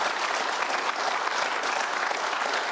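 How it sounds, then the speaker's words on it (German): Sustained applause from a German TV talk show studio audience, steady and dense clapping throughout, fairly loud with no break. "Und Bam! Applaus."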